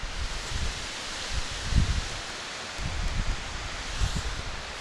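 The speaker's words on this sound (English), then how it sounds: "It's a bit windy" Gusty wind rushes and rumbles against the microphone in uneven surges outside a camper van, with faint rustling in the background.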